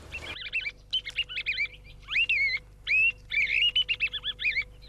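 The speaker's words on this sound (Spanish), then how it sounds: "El reclamo bucal y los cantos de los tordos enjaulados atraerán a los zorzales de los alrededores" Caged thrushes sing loud, clear warbling phrases with rising and falling whistles, joined by a mouth-blown decoy call, in repeated close bursts with brief gaps and no talking.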